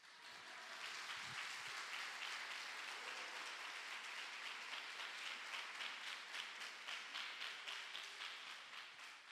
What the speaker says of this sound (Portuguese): se é para aplaudir, é aplaudido